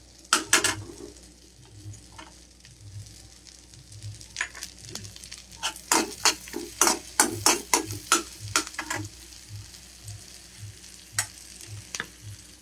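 Finely chopped garlic frying in a pan, a low steady sizzle under a busy run of spatula scrapes and taps against the pan, close and fairly quiet, with no talking.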